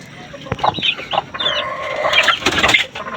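A hen clucks in short, repeated bursts, close by, rising into a louder drawn-out cackle near the end.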